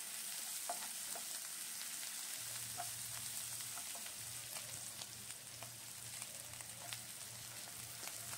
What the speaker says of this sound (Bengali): এবার মশলাটাকে ভালো করে ভাজতে হবে।